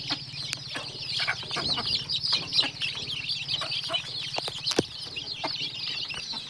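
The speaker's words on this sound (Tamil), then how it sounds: "எல்லாம் கோழிலாம் அட்டகாசமாக திங்க பாருங்கள்" A flock of village farm chickens clucking and softly calling while pecking at feed, with continuous overlapping chatter and occasional sharp pecks, close by at moderate volume.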